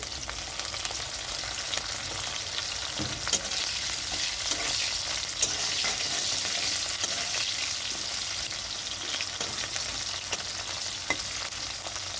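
Bitter gourd pieces frying in oil with a pinch of salt for a dhundul shukto, a steady close crackling sizzle with occasional sharper pops and stirring clicks, no voices.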